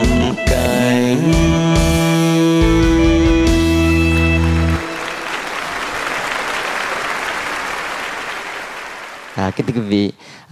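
Audience applause for a singer after a Vietnamese sentimental song, breaking out as the final music notes end, broad clapping that gradually fades before a few closing sounds.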